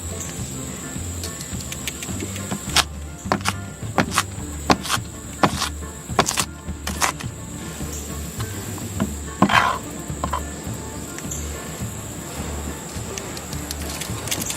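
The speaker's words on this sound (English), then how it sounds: "Alright, let's get to chopping." Knife chopping ingredients for a stromboli, a series of sharp, irregular cutting taps on a board heard fairly close, set against a steady insect-like hum in the background.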